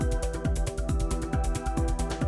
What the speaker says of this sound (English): And this is kind of a drone.